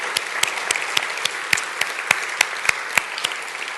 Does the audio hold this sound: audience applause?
yes